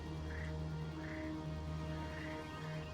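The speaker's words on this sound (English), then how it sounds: "like the frogs and stuff." Frogs croak repeatedly in Mass Effect 2, a few evenly spaced raspy calls sounding over a steady low ambient hum in a foggy wetland-like setting, with no speech.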